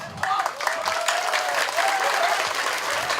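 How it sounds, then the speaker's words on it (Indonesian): An audience at a formal gathering breaks into applause, a dense steady patter of many hands clapping close by for a few seconds. "Aplaus buat beliau."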